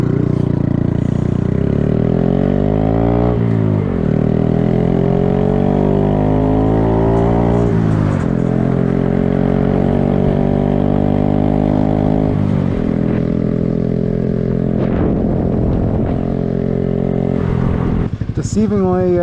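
A Honda Grom motorcycle ridden on the road, its small engine revving up and shifting repeatedly, loud and close, with rising pitch sweeps between gear changes and someone talking over it at times.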